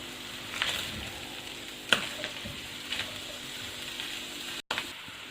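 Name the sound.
chopped vegetables and grated carrot frying in oil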